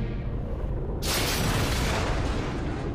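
A sudden loud blast erupts after a second of low rumble, followed by a sustained roaring wash of noise that fills the rest of the clip.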